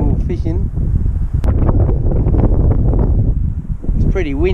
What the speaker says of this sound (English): It's pretty windy, can't get away from this wind.